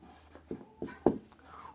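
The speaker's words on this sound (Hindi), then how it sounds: "लिखेंगे अब" Pen writing on paper during a class 10 math lesson, a few soft scratchy strokes close by in short bursts, with faint whispery voice sounds between them.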